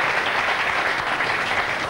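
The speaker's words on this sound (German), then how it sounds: "jetzt gibt es erstmal Applaus hier für das Tor gegen Dänemark." A television studio audience claps, a dense and even wash of applause that holds steady and loud for the whole short stretch.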